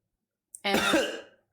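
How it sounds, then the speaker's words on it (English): A single short, rough video game cough of a character coughing up blood, close and fairly loud, following a brief sharp intake, then fading out into silence. "coughing up blood again"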